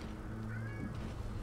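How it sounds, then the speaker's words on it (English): A cat meows once, a short, close, rising-and-falling call over a steady low background hum. "Hubs, you can't meow."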